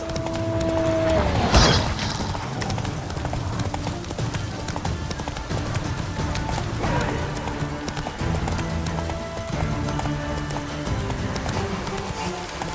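Roach the horse gallops in The Witcher 3, hooves clip-clopping in a steady rhythm close by for the whole stretch, with a rider's voice urging it on and a sharp impact early.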